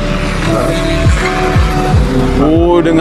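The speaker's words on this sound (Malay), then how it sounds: "dengar abang bunyi brake" Race car at a circuit meeting braking hard, with several sharp downward-sweeping tire squeals over a loud, constant engine roar and track noise.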